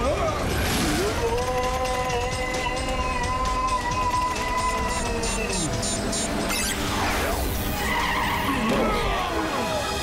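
Car skidding in a Ben 10 cartoon, a long screeching tire slide with rising and falling pitch over loud dramatic music, followed by further squeals and impacts near the end, while characters talk over it.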